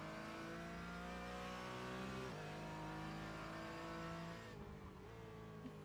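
A Porsche race car engine in iRacing at Watkins Glen drones steadily at high revs, its pitch dipping sharply with a gear change partway through before it holds on again, faint and alone.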